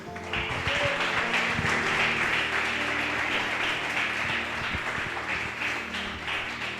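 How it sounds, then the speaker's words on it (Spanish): A church congregation claps for the Lord, a moderately loud, sustained patter of many hands that holds steady and fades slightly toward the end, with faint room rumble beneath. "Denle un fuerte aplauso al Señor"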